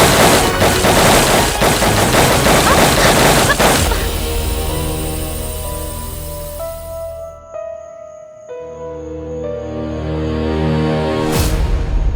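A crime-drama shootout opens with a dense burst of rapid machine-gun fire for about four seconds, loud and close, then gives way to a dramatic musical score.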